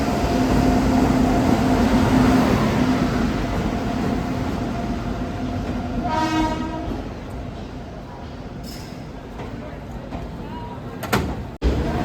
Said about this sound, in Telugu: చాలా సేపటి తర్వాత వచ్చింది మన ట్రైన్.